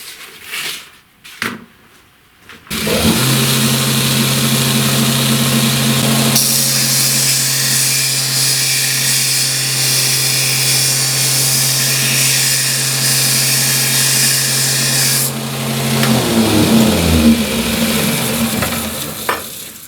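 A homemade belt grinder runs at about 25 metres per second, its motor a steady loud hum and whine that turns harsher and brighter for several seconds mid-run before easing back and spinning down near the end.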